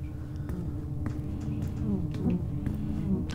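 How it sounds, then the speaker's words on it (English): Bees buzzing in the sci-fi video game Fort Solis, a continuous droning hum of several insects close by with faint wing flutters, heard on their own without talk. "those are bees, yep."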